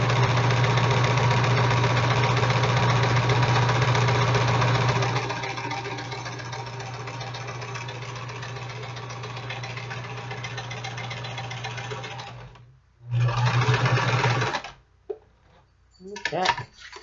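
Sewing machine stitching fabric for a vest, a steady mechanical whir loud and close for about five seconds, then softer running with a few short bursts and pauses as locking stitches are made at the end, under a speaking voice.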